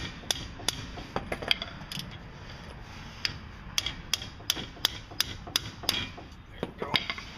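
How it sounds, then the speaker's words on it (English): A hammer taps a ratchet fitted on the front wheel bearing nut of a 1998-2005 Chevy Blazer-type GM truck, giving a series of sharp metallic knocks at an uneven rhythm over a quiet garage background. "you can tap the ratchet, preferably with a brass hammer"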